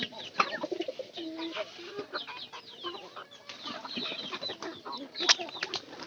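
Pigeons and chickens gather at feeding time, and faint scattered chirps, coos and clucks overlap at a distance in a quiet, busy yard, with occasional soft voices.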